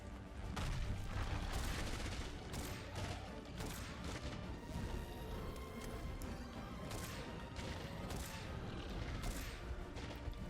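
Repeated bowgun shots fired in the video game Monster Hunter World during a fight with Bazelgeuse, loud, sharp reports recurring every second or so within a dense, continuous wash of battle noise and blasts.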